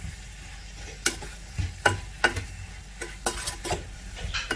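Apple pieces cooking in a pan, a quiet bubbling sizzle broken by several crisp clicks and scrapes of a utensil at uneven intervals, close and without speech.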